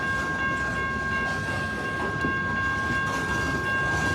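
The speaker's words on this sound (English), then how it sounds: "he's picking up pretty good speed now. This train's going to have 2 DPUs on the rear." Freight train on the Paducah and Louisville Railway picking up speed, with a close, steady rumble of railcars and a constant tonal hum, continuous and fairly loud with no voices.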